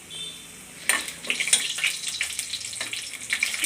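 Chillies drop into hot oil already holding pepper and cinnamon and burst into a steady, close sizzle that crackles and spits for the rest of the moment after a quieter start.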